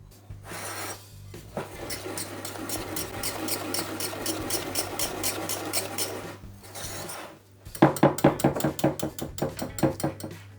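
Nut powder, flour and orange zest being stirred into chocolate-walnut cream for a tart, with steady rhythmic scraping and rubbing strokes against the bowl, close and moderately loud, turning faster and sharper near the end with no talking.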